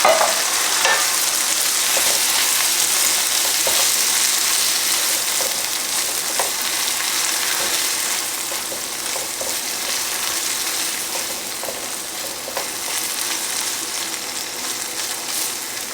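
A can of diced tomatoes with plenty of liquid simmers in a pan as an orecchiette sauce, giving a steady, even sizzle and bubbling hiss with faint scattered pops, with no talk.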